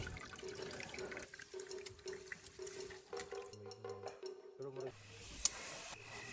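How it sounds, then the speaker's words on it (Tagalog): Water from a campsite tap on a Mt. Kalatungan trek is collected into a container, splashing and trickling in uneven bursts at close range, with quiet background sounds and a brief sharper clatter near the end. "Nakikibulit ng tubig para baunin sa kinabukasang paglalakbay."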